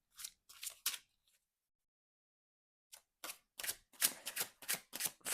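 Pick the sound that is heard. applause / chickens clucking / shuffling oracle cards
shuffling oracle cards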